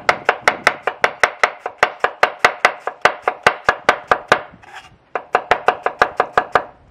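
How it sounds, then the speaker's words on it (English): A vintage Lamson knife slices through an onion on a cutting board in a fast, even series of crisp close chops, one brief pause, then the quick rhythmic cutting resumes. "Let me show you how it runs through an onion in no time."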